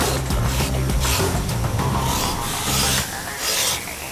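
A Bondo grater rasps across cured body filler on a pest-control ant sculpture. The scraping comes in loud, close, rhythmic back-and-forth strokes with short pauses between passes.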